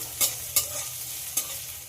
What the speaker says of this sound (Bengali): পেঁয়াজটাকে একটু ব্রাউন করে ভেজে নিতে হবে